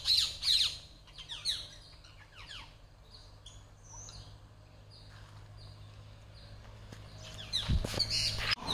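Parrots near an ancient temple squawk in shrill bursts at the start, fall quiet for several seconds, then burst out again loudly near the end.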